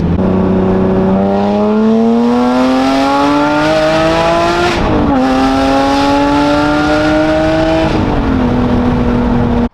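Lotus Evora 400 sports car on a spirited drive, its engine loud and close, climbing steadily in pitch through the gears with brief dips at each shift.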